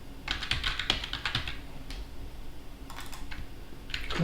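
Computer keyboard typing an IP address, a quick run of key clicks close by that pauses and then resumes in short bursts, with no voices.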